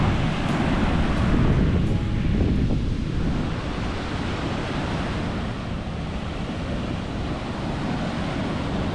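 Ocean surf breaks and rolls on a Cancun beach in Mexico, a continuous heavy roar of waves mixed with strong wind buffeting the microphone.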